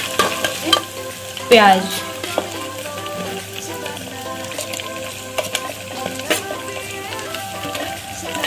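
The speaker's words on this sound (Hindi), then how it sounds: "इसको हम 30 सेकेंड तक फ्राई करेंगे, जब तक ये थोड़ा सा रेड नहीं हो जाता।" Oil sizzles steadily in a pan while ingredients fry for masala bhindi, with occasional stirring clicks and a brief spoken word early on over the continuous frying.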